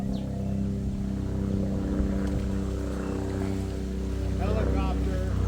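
A helicopter flies overhead during a Texas flood, its steady rotor drone and low engine rumble filling the air continuously, while a voice speaks briefly near the end.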